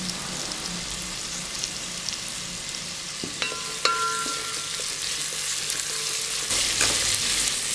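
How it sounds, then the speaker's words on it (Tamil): Chopped onions sauté with salt in a hot pan for village-style egg biryani, giving a steady close sizzle with a few sharp metallic clinks of stirring partway through. "வெங்காயம் நல்லா பொன்னிறம் ஆகிற வரைக்கும் வதக்கிக்கோங்க."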